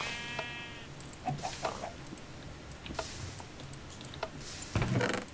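Sheep in the Minecraft video game, a few short bleats near the start among scattered game clicks and rustles, fairly close and moderately loud, no talking.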